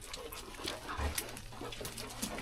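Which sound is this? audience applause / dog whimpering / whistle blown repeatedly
dog whimpering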